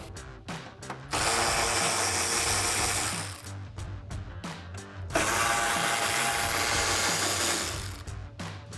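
Mechanical ratcheting from a 10mm socket ratchet backing out the bolts that hold a 2005-2009 Mustang headlight, with quick clicking bursts broken by two longer, louder sustained runs of ratchet clatter, close and without talk.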